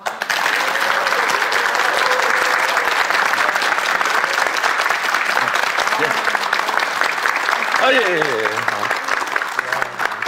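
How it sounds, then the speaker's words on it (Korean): Dense, sustained applause from a studio audience after a lecture, loud and continuous for the full length, with a brief voice speaking near the end. "진짜 이런 강연에 대한 박수는 일어서서 쳐야 되는 거구나라는 걸 느끼게 됩니다."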